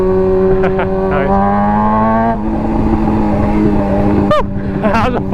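A Grom motorcycle engine drones loud and close with a steady buzzing whine that dips and climbs slightly in pitch as it rides, with brief shouting voices breaking in near the end.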